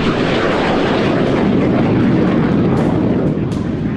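A Hawk jet trainer aircraft flies at Kalaikunda air base during an Air Force display, a loud, continuous roaring jet rush that swells and holds for several seconds.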